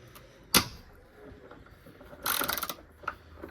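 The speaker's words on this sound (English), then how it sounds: "undoing these two bolts at the back right here. So to save you some time, I'll let you know it is a 12mm socket" A ratchet with a 12mm socket undoes bolts on a 2013 Mitsubishi MN Triton during a fuel filter change: one sharp close click, then a short burst of rapid ratcheting clicks and a final tick.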